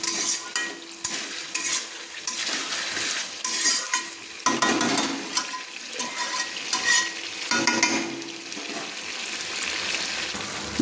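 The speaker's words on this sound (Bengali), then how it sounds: "মশলাগুলো ফুলকপিতে মাখিয়ে নিচ্ছি, ভেজে রাখা ফুলকপিতে।" Spiced, already-fried cauliflower being stirred and tossed in a pan over a medium flame, with a steady sizzle and repeated scraping and clattering strokes throughout, close and fairly loud with no talking.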